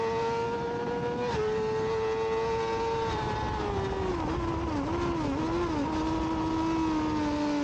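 Yamaha R6 racing motorcycle in an amateur open sprint race, its engine a loud, close, sustained high-pitched scream that dips briefly as the throttle eases, wavers through gear and throttle changes, then holds steady on the straight.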